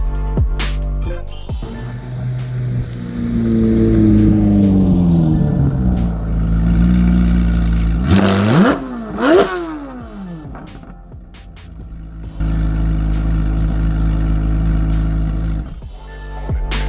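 Modified C8 Corvette Z06 engine, loud and close, rising through a long high-pitched rev, dropping, then blipped sharply twice before settling into a steady droning hold.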